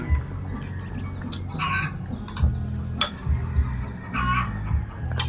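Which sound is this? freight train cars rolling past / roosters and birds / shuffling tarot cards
roosters and birds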